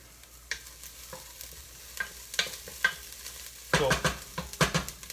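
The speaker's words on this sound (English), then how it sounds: "a few extra minutes of me just caramelizing onions" Onions caramelizing in a pan for a meatball marinara sauce, stirred in a few bursts of scraping and sizzling, louder toward the end, close and with no talk.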